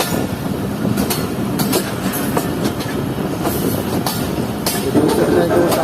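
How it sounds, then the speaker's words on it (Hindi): A Jaffer Express passenger train runs along a single-line railway while another train approaches and the train pulls onto a loop line. A steady, close rolling rumble carries rhythmic wheel clacks throughout. "तो देख सकते हैं कि वो सामने से ट्रेन आ रही है और हमारी ट्रेन भी लूप लाइन पर लग रही है।"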